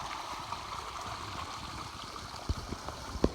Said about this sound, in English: As you can see, it's some little flowing water here.